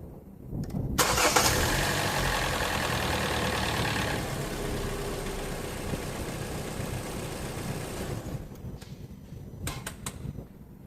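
A car engine cranks and catches after an oil change, settling into a steady, fairly loud idle with a brief timing chain clatter, then dropping away near the end.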